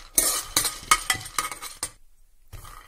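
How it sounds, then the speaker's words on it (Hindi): Half a bowl of peanuts stirred in a pan over medium gas flame, a run of close, irregular scraping and clinking strokes with a short pause near the end before stirring resumes. "आधी कटोरी मूंगफली मीडियम आंच में आप गैस पे रख दें और इसे कंटिन्यू चलाते रहें।"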